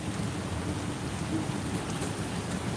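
Steady heavy rain over Mumbai at the first rain of the season, a thick, unbroken roar of falling water with a low rumbling undertone, no voices.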